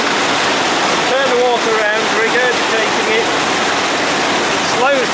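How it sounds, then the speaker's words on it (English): Water rushing steadily down a fish pass channel fitted with fins that turn and slow the flow beside the Torrs hydro scheme at New Mills, a loud continuous wash with some bird calls over it. "The water's travelling down."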